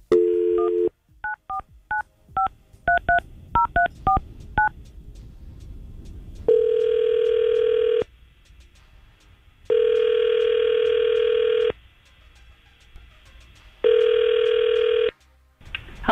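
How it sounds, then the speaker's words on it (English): Telephone keypad tones beep in quick irregular bursts for a radio station call, followed by three long, loud ringback rings separated by short silences, with no talking. "We're going to try to call Christina and see if we can get her on the phone."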